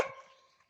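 A dog gives a single short bark right at the start, then a faint trailing whine fades to near silence before another sharp bark begins at the very end.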